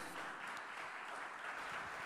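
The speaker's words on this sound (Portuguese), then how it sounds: "Aplauda Jesus, glória a Deus." Congregation applause at a Portuguese-language church service, a steady, distant wash of clapping that fills the short moment evenly, with no voice over it.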